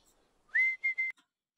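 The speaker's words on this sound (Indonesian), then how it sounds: "itu soundnya bersiul" A whistling sound effect played during a church Sunday service: one clear, steady high whistle that rises into a held note, then two shorter repeated whistles, close and alone with no talking.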